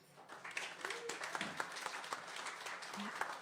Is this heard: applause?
yes